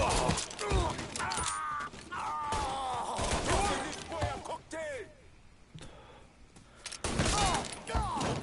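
Gunfire in the Mafia 3 video game: bursts of shots and impacts amid game action, with someone talking over much of it.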